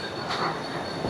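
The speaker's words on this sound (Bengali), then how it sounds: "9 নম্বর প্ল্যাটফর্মে আমার ট্রেন দিয়ে দিয়েছে" A Karjat local train at a Mumbai railway platform, close and loud, with rumbling wagons, rattling wheels and a high steady squeal of wheels on rail running through the short stretch.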